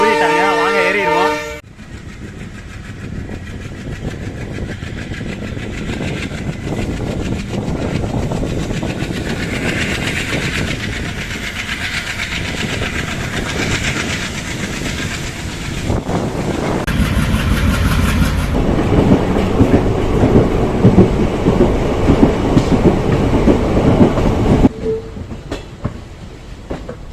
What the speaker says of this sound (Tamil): இந்த இடத்துல ட்ரெயின் ஒரே ஒரு நிமிஷம் தான் நிற்கும்